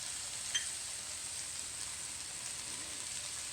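Garlic, about four cloves, sizzling in a pan with a little fat, a steady soft hiss of frying that holds evenly throughout, with one small pop near the start.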